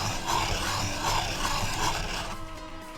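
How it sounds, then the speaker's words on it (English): A pencil is turned in a handheld swivel sharpener, making a steady close rasping and grinding that rubs in repeated strokes, then eases off at the end. "I got a swivel sharpener."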